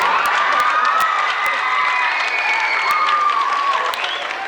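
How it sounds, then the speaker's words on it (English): An audience at an 8th grade school band spring concert claps steadily for the band kids, dense and sustained clapping with scattered cheers and whoops filling a hall, fading slightly toward the end. "tell them how much you appreciate it by giving them a round of applause"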